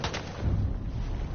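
Gunfire in Battlefield 1, likely sniper fire: a dense, booming volley of shots that stays loud and rumbling throughout a short, unbroken stretch.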